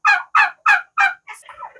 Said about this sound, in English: we do house our heritage breed bourbon red turkeys